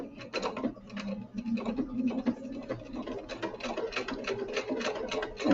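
A sewing machine stitches fabric in a back-stitching pass, with a steady rapid mechanical rattle and ticking needle rhythm running throughout, fairly close and moderately loud, swelling slightly near the end.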